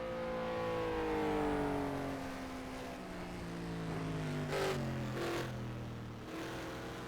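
A simulated race car accelerates out of turn 11 during an eight-hour endurance race at Bahrain, its engine note climbing through several rising gear sweeps with quick shift blips, moderately loud and continuous.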